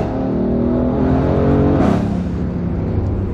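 A Mercedes GLC 63 SUV with a titanium exhaust and free-flow downpipes, in comfort mode, revs up to a loud throaty peak and then settles back, close and alone with no pops or crackles.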